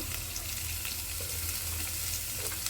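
Onion and vegetables fry in oil in a pan, a continuous dense crackling sizzle over a low steady hum, close and even throughout with no talking.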